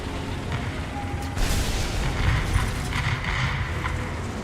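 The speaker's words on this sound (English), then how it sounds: "Artillery, fire!" An artillery strike in War Thunder during a U.S. tank battle: distant booming shell fire and rumbling impacts over steady engine and battlefield drone, a dull thump swelling partway through.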